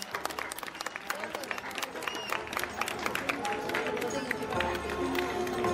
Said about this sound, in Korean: 오늘 수고해 주신 모든 출연자 여러분들께 큰 박수 한번 보내주시기 바랍니다